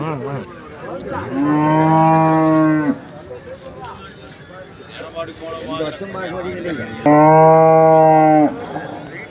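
Dairy cattle give two long, loud moos a few seconds apart, close by, while people talk in the background at the busy outdoor Anthiyur cattle market.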